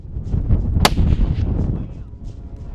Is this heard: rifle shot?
yes